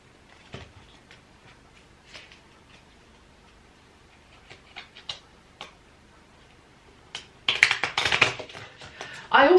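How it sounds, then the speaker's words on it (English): Oracle cards being shuffled during a reading, first as soft sparse taps, then a dense, louder burst of riffling card noise near the end. "Let's just shuffle the cards."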